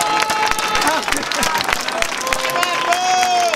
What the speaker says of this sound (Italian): Marco Piazza, fategli un applauso.